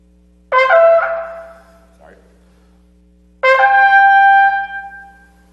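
Solo trumpet plays two bright, sustained blasts, the first short with a brief fading tail and the second longer and held, modeled on a shofar tekiah call in Jewish art music; near and loud against quiet background hum.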